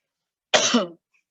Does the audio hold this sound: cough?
yes